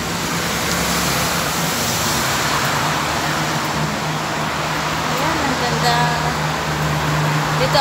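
Traffic of buses and cars heard from an overbridge, a steady broad roar of passing engines and road noise with a low hum underneath and no pauses.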